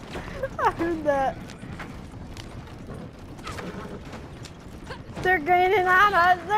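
Horse hooves clip-clop at a steady gallop in a video game, running under excited voices that talk and shout throughout.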